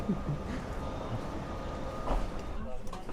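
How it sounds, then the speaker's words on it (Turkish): A train rumbles steadily into a station in Austria, a continuous low rolling drone with faint rail clatter, while people talk nearby. "Trenimiz de geldi."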